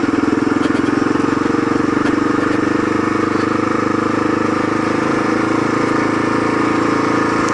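A Kawasaki KLR motorcycle engine drones steadily and loudly while riding, a continuous throbbing hum with wind noise and no break throughout.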